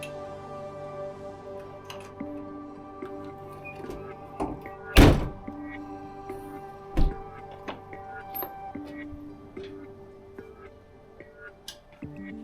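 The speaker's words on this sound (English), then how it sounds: "then secure the rear latches" Rear latches on a wedge camper being fastened outdoors: scattered metallic ticks and clicks, then a sharp loud clack of a latch snapping shut, followed by another firm thunk and lighter clicks.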